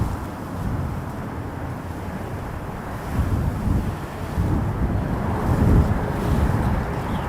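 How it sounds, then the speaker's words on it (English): Blustery wind buffets an outdoor microphone at Toronto Pearson Airport, a continuous broadband roar with gusts swelling louder in the second half and no talk. "it is definitely blustery."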